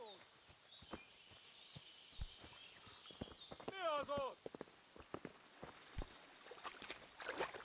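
Horse hooves clip-clop in the Kingdom Come: Deliverance video game, quiet irregular steps mixed with water sounds, and a voice speaks over them.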